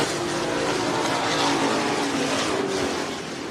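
Stock cars racing through turns 3 and 4 at Hancock County Speedway, a dense, steady roar of several engines at close range, holding loud throughout and easing slightly near the end.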